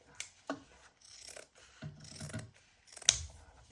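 Scissors cutting through denim fabric, a handful of short close snips and rasping cuts separated by brief pauses, quiet and without talk.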